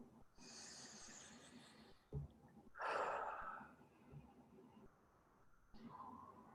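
A slow, deep inhalation through the nose, close and soft, with airy hiss rising and fading amid quiet room noise and faint breaths around it.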